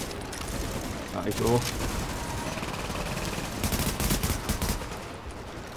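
Gunfire in The Division on PC, rapid bursts of sharp shots and automatic fire crackling through a firefight, with a brief spoken reply in German over the shooting.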